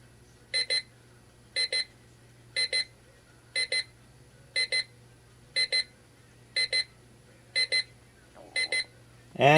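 An XREXS large digital clock's alarm rings in regular double-beep bursts, about one pair per second, clear and close against a quiet background.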